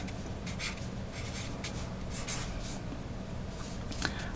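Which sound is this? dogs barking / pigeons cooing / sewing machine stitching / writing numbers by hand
writing numbers by hand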